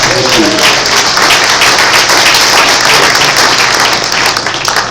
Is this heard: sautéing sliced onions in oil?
no